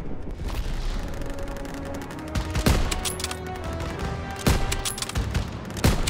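Dense gunfire rattles in the Call of Duty WWII campaign, with continuous rapid automatic shots and several heavier booms standing out over a loud battle din.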